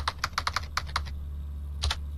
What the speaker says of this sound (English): I guessed my own password by smashing the keyboard.